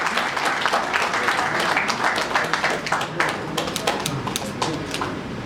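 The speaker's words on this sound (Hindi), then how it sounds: "जोरदार तालियां हो जाए" Dense, sustained clapping from a crowd, steady and fairly loud throughout, with a few louder individual claps standing out.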